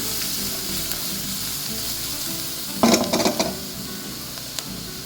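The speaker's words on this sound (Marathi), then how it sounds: "आता परतूया. लसूण थोडा 2 मिनिटं परतूया आपण." Chopped garlic sautéing in a pan on a home stove, giving a steady oily sizzle with a short burst of stirring and scraping in the middle, close and clear with no talk.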